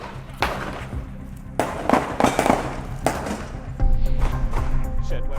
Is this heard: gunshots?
yes